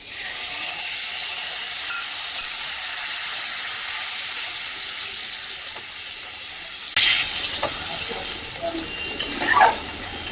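Tomato and ginger paste hits okra in a hot pan, a steady hiss that jumps into a louder, crackling sizzle partway through, with sharp spits near the end and no voices.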